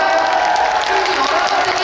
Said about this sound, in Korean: 우리 관객들 이거 박수 한번 주세요.